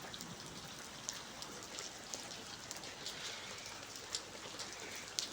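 Rain falls steadily on a village, a soft, even patter with scattered louder drops, unbroken and without talk.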